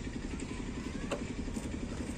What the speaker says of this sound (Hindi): ये चल तो रही है गाइस, पर इसमें ना थोड़ी थोड़ी थोड़ी थोड़ी हल्की हल्की हल्की मिसिंग आ रही है